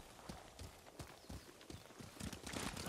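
Horse hooves clip-clop at a steady walking rhythm in Ghost of Tsushima, regular moderate thuds close by with no talk over them.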